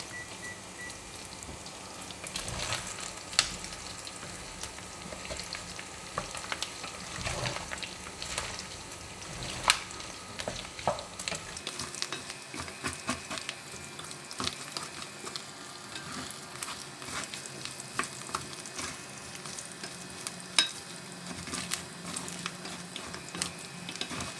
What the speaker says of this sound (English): all the pork fat will release the oil. Continue to fry for 9 more minutes.